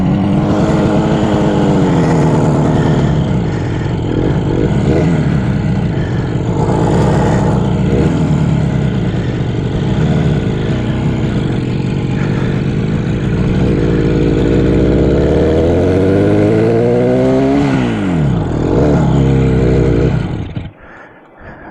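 A 1967 Yamaha YR1 motorcycle engine running loud and close throughout, with a rough steady idle, rising and falling revs in the middle and a sharp rev sweep near the end before it cuts off.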